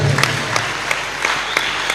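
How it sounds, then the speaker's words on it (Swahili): Church congregation clapping in response to a preacher, a brief burst of scattered hand claps heard in quick uneven succession, moderately loud, without speech over it. "Chapia Bwana makofi."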